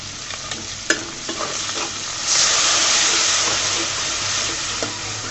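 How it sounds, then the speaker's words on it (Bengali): Chili powder and turmeric stirred and fried in a pan for a shrimp and bottle gourd curry, a steady close sizzle and hiss swelling midway, with occasional spoon scrapes and taps against the pan. "ভালো করে আমি কষিয়ে নেব মশলাটাকে"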